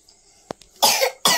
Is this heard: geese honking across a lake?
no